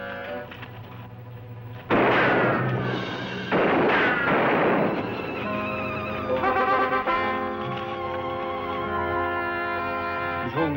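Two loud gunshot blasts ring out a couple of seconds apart, each trailing off in a long echo, heard in an old Western adventure with a war party, followed by musical tones and background sound.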